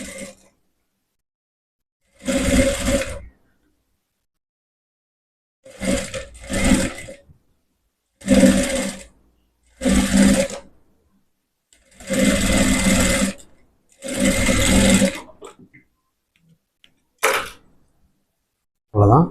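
A sewing machine stitches a shoulderless blouse in several separate bursts of whirring, each lasting about a second, with quiet gaps between them. The machine is close and fairly loud, and no one speaks over it.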